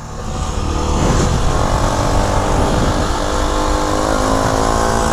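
Motorcycle engine revving hard while the bike rides up on its rear wheel in a wheelie, a steady loud drone throughout, with no talk over it.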